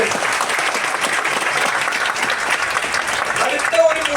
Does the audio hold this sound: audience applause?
yes